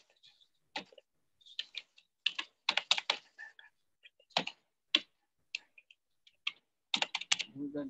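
Someone types on a computer keyboard nearby in irregular bursts of crisp key clicks, some quick flurries and some single taps, with quiet gaps between them.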